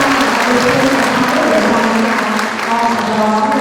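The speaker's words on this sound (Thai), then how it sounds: "ขอเสียงปรบมืออีกสักครั้งหนึ่งได้ไหมคะ" An audience at an award ceremony for a Thai music ensemble competition applauds in a loud, continuous wash of clapping, with voices mixed faintly underneath.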